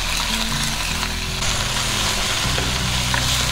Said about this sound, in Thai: ทีนี้ก็ลงกระดูกหมูไปผัดก่อนนะครับงานนี้ผมจะผัดกระดูกหมูกับ3เกลือก่อนนะครับ